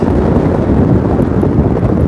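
Strong warm wind buffets the microphone in a steady low roar at the Brooklyn Narrows, rumbling continuously with no voices.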